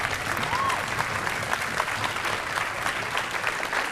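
A room full of people clapping, dense and steady applause that holds at an even level throughout.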